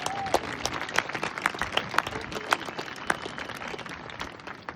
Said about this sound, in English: One more big round of applause for our valedictorian.